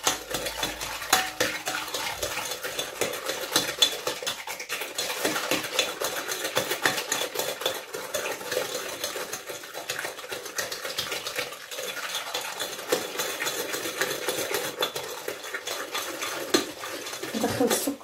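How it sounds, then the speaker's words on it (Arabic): A utensil scrapes and clinks against a bowl while sugar is mixed into eggs for an apple tart, a steady busy stirring rhythm close up with no talking. "نخلط غير بالبيض."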